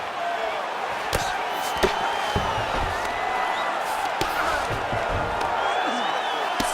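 A virtual arena crowd in the UFC 5 video game murmurs and swells in reaction to a strike during a fight, with sharp impact thuds scattered through the steady crowd noise.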